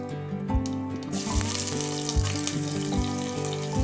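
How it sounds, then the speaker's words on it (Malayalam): Onions sauté in a pan for pasta, giving a steady, moderately loud sizzle and crackle. Background music with a clear rhythmic beat plays under it the whole time. "അത് കഴിഞ്ഞ് നമുക്ക് സവാളയും എല്ലാം ഒന്ന് വഴറ്റിയെടുക്കണം."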